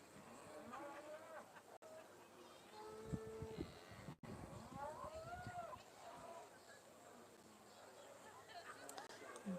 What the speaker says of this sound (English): cows making their way into the ring